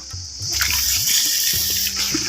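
Cooking water poured steadily into a pan holding peanuts and ginger while making Chettinad mandi, a close, continuous gushing splash that lasts throughout with no talking.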